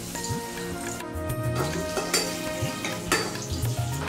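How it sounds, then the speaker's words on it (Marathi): Onion frying in a ladle of oil in a pan over a wood-fired chulha stove, a steady close sizzle with stirring scrapes and occasional utensil clinks. "आपण आता कांदा भाजून घ्यायचा आहे। कांदा पूर्ण लाल होईपर्यंत भाजला पाहिजे।"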